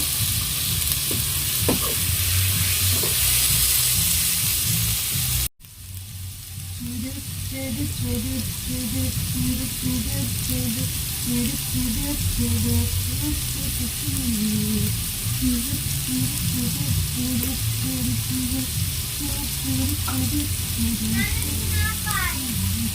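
Chicken fries in a pan with a steady crackling sizzle, briefly cut off, then returning with scraping stirs; faint voices can be heard in the background.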